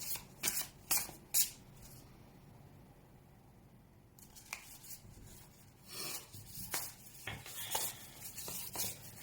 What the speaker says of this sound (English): As I go ahead and set my intention and shuffle the cards